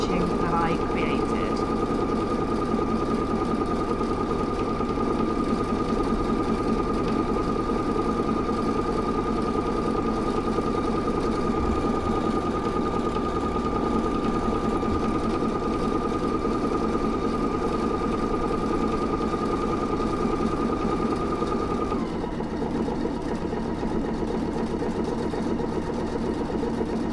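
A Pfaff Creative Icon 2 sewing machine runs a steady, continuous stitch at constant speed for most of the stretch, a close mechanical whir with a faint high whine, easing off near the end as it comes to a stop.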